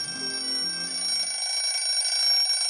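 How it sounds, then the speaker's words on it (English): An alarm clock rings in a bedroom early in the morning, a continuous bright metallic ringing that carries on steadily throughout with no pauses, alone and fairly close. "So at the sound of the alarm, the bedclothes are thrown back, the bed springs creak, the alarm is shut off"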